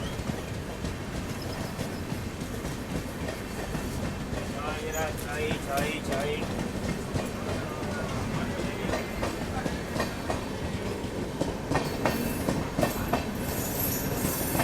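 Netaji Express running on rails, heard from inside: a continuous loud rumble with rhythmic clickety-clack and occasional wheel squeal, growing slightly louder toward the end.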